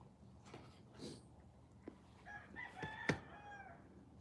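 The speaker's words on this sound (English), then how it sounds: "I guarantee you that's why the roosters are crowing" A faint rooster crow rises from a distance amid quiet outdoor background noise, with a few soft clucks before it.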